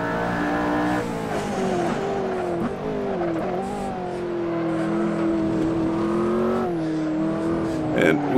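A McLaren Senna racing around Spa in the Assetto Corsa video game, engine tone rising and falling through gear changes and throttle lifts, with a brief tyre chirp near the end and someone talking over it.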